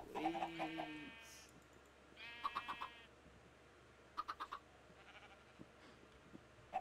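Minecraft chickens cluck in short, bleating bursts that come in several separate bunches, fairly faint and scattered over a quiet video game background.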